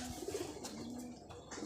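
Pigeons cooing softly while they sit eating rice, low repeated coos under a faint outdoor background, quiet and without talk.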